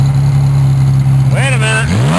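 A race car engine with a high-torque starter idles with a steady, close hum, then revs sharply in a quick rising and falling burst near the end, while people talk alongside.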